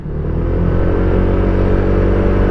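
A Honda Vario 160 ABS scooter engine surges on a sudden twist of the throttle, a loud, steady close-up drone with rich low harmonics that holds strong throughout.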